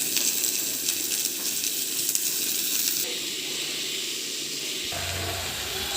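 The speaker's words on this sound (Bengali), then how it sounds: "কড়ার মধ্যে তেল দিয়ে দিয়েছি, তাতে শুকনো লঙ্কা কুচিয়ে দিয়ে পেঁয়াজ কুচিটাও দিয়ে দিলাম।" Dried chilli and chopped onion frying in oil in a wok, giving a steady close hiss and sizzle that eases slightly partway through and carries on without talk.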